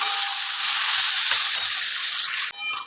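Ground spice paste sizzles steadily in a pan over low heat, a loud, dense hiss with faint stirring scrapes, cut short near the end as the sizzle drops and briefly returns.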